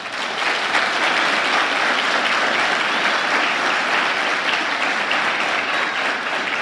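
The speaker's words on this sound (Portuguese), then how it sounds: "Vamos aplaudir os voluntários." A church congregation applauds its volunteers during a service. The clapping is loud, dense and continuous, holding steady from start to finish with no talking over it.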